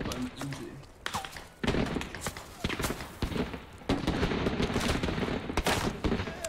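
Machine gun fire in the video game Squad, bursts of rapid gunshots and heavy thumps rattling through a firefight, some close and sharp, others more distant, with players talking over the combat.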